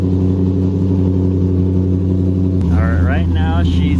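A car engine with a 3V ghost cam tune, from the 2005-2010 years, runs at a loud, steady, lumpy idle with a deep rumble, and a person talks over it partway through.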